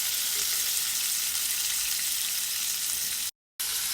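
Squid frying in a pan with squid ink sauce, a steady close sizzle throughout, cut briefly by a short dropout near the end.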